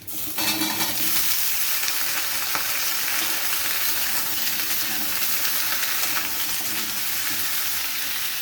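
Chopped potato, beans, eggplant, long beans and radish hit hot oil in a wok with softened onion, giving a loud, steady sizzle that holds strong throughout with faint stirring beneath.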